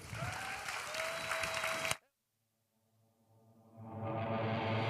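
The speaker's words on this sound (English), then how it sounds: "Big round of applause for the heart and soul of QA Challenge Accepted, our volunteers and the organization team." A conference audience claps loudly and steadily for the volunteers and organizers at QA: Challenge Accepted 2024. The applause cuts off abruptly, then after a short silence a soft hum builds into steady crowd noise.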